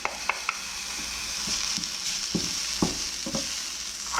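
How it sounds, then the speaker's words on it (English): Capers and garlic sizzle steadily in a pan over medium-low heat while a utensil stirs and scrapes through them in a few soft, irregular knocks. "okay, and we stir. This is a medium to low heat"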